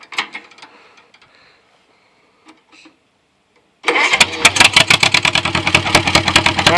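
A John Deere M tractor engine catches after a few faint clicks and quiet moments, then runs loud and close with a rapid, steady thumping beat.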